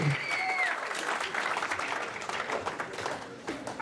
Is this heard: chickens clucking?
no